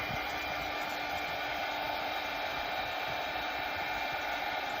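Hair dryer blowing steadily on wet paint on an Easter arch sign, a constant close whooshing whine with no breaks from start to finish.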